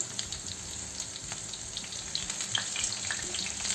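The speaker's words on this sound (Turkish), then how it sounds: "Kızmış olan yağımızın içerisine ben ciğerlerimizi alıyorum." Floured pieces of Albanian-style liver frying in hot oil already used for potatoes, a continuous crackling sizzle with scattered sharp pops, close and steady.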